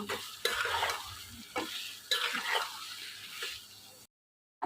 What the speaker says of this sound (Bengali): আমি এখন একটু নেড়ে চেড়ে ভালো করে আর একটু ভেজে নিব।